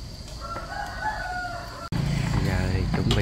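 A rooster crows loudly nearby amid clucking chickens, with a sudden jump in background noise partway through and voices talking underneath.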